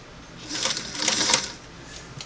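A Singer Model 338 sewing machine runs a single-needle straight stitch in a short, steady burst of close mechanical whirring and ticking that swells and fades, with no talk.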